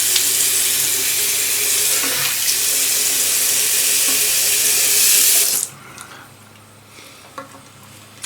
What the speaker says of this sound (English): Now, I'm going to put some nice Lake Michigan water on my face.